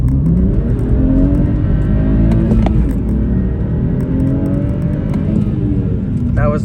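A 2013 BMW 335i launching from 2,000 RPM with wheel spin, a loud close engine roar rising steadily in pitch as it accelerates, heard from inside the car.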